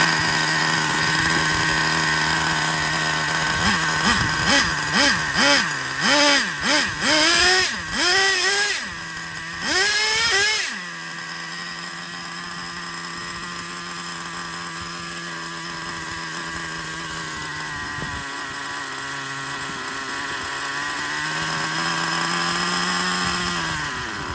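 Traxxas Slayer Pro 3.3 nitro RC truck engine sending out a run of sharp, buzzy throttle blips, then settling into a long, steady idle hum.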